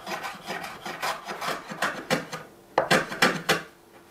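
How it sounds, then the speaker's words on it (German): A rasp or plane working the edges of a wooden sofa leg, a series of short dry scraping strokes in an uneven rhythm, close and fairly loud. "Deswegen hobel ich die leicht an, die Kanten, damit es ein bisschen angefasst ist."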